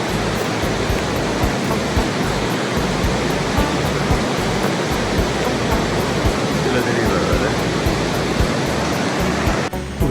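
A 30-foot waterfall at Lynn Canyon in Vancouver roars as a loud, steady broadband wash of falling water, close by and unbroken, with no voices heard.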